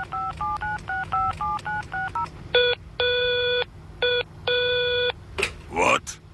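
Touch-tone phone keys dialed in quick stepped beeps, then steady electronic ring tones repeat in a cartoon prank call, with a short burst of voice-like sound at the end.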